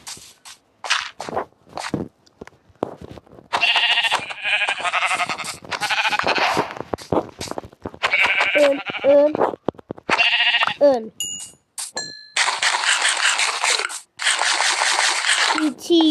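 Sheep bleating repeatedly in a Minecraft-style game, with loud close cries alongside crunching footsteps and other clicks.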